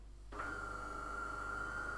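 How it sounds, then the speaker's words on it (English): A coffee machine starts up in the background with a faint, steady high-pitched whine and low hum that sets in abruptly and holds evenly, with no talking over it. "It is my coffee machine."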